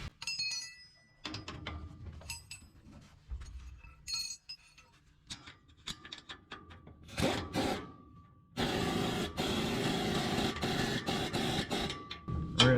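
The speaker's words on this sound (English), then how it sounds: "So now what we're going to do is we're going to tighten the end bolts." Metal clinks and ratchet-like clicks from tightening the end bolts on a utility trailer's leaf spring, intermittent close taps giving way to a denser, steady rasping stretch near the end.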